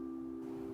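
A simple three-note chord rings out as one short, sustained tone, with steady stacked notes and no other sound.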